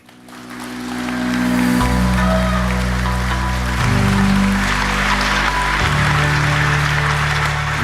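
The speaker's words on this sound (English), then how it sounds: "Veet, you got a round of applause there" Sustained audience applause greeting a keynote guest at a technology conference, a dense, even wash of clapping that swells quickly and holds steady over a low hum.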